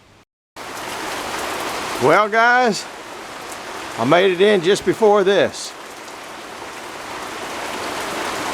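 Steady rain patters and hisses throughout at an outdoor sawmill, a constant wash of noise, while someone talks briefly over it in a couple of short bursts.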